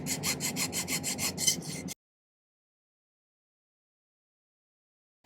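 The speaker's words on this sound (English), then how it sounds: "I got a hole drilled in there" A rapid, rhythmic grinding and scraping of a small drill boring a hole in a silver pendant, for about two seconds before cutting to silence.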